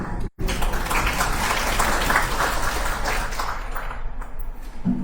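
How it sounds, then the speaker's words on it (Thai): Steady audience applause at a formal economics talk, a dense wash of clapping from many hands that holds evenly for several seconds. "ขอเสียงปรบมือต้อนรับท่านด้วยค่ะ"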